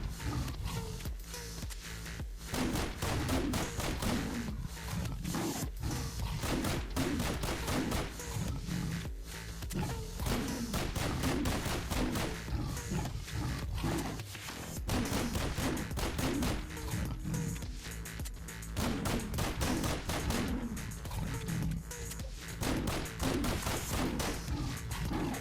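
Repeated pistol shots from S.T.A.L.K.E.R. with the Gunslinger mod ring out in a steady rhythm, loud and close, each sharp crack followed by a brief echo, with short pauses between strings of rapid fire.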